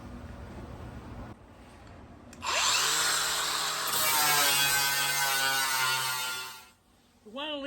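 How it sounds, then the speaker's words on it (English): An angle grinder works welds on a 1972 VW Super Beetle body, with a loud, harsh, sustained metallic whine lasting about four seconds before spinning down, close by after a quieter stretch of background noise. "Grinding isn't easy either."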